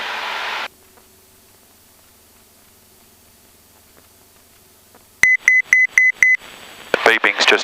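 An autopilot altitude alert in a Cessna 172 cockpit with a G1000 panel: after a low droning hum, a loud series of five or six evenly spaced electronic beeps, followed by a crackly burst of radio noise.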